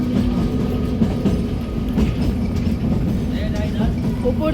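Kalka–Shimla toy train with a Vistadome coach rolling along its narrow-gauge rails: a steady, close rumble of wheels and carriage noise runs throughout while people talk over it.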